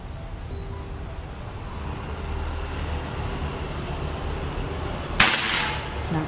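A single sharp, snappy shot from a PCP air rifle cracks out once against a quiet outdoor background hum, followed by a brief ringing tail.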